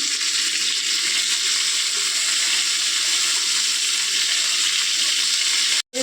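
Marinated chicken rubbed with ginger-garlic paste and salt sizzles in a hot pan, a loud, continuous hiss that holds steady before cutting off abruptly at the end.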